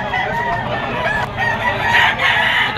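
Rooster crowing among fowl at a chicken market, a loud near crow drawn out over a few seconds with clucking and bird sounds around it.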